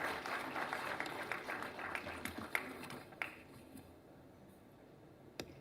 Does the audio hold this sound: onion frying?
no